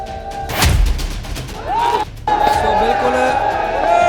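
A crowd of Sikh pilgrims at a gurdwara raises loud jaikara war cries, a burst of massed shouting that swells and echoes, with someone speaking briefly.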